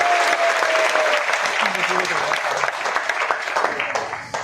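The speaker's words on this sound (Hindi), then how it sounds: "एक बार तालियां बजा दीजिए, बहुत बढ़िया।" Steady applause from a seated audience at an RCM business seminar in India, dense clapping sustained throughout with a faint tonal voice or whistle briefly above it.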